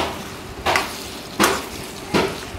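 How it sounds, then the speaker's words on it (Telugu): Eggplant pieces go into a hot pan for an eggplant-tomato curry, with three evenly spaced bursts of sizzling and spatula scraping over a steady frying hiss, close and fairly loud with no talk. "ఇప్పుడు వంకాయ ముక్కలు వేసేసుకోవాలి"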